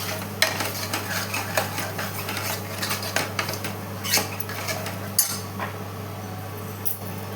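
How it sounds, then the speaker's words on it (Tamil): Masala for Chettinad-style mutton gravy being stirred and sautéed in a pan, with a steady low hum beneath repeated scraping and clinking of a spoon against the metal pan, and a soft sizzle throughout. "இப்போ இதை ஒரு 5 மினிட்ஸ் நல்லா வதக்கி விடணுங்க இந்த மசாலாவை"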